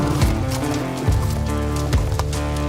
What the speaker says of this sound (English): Watch this touching moment as a horse runs into the flames to save its family.